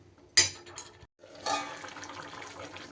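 Water is poured into a pot of simmering pointed gourd curry in a home kitchen: a sharp splash, a brief pause, then a softer, sustained pour that trails off.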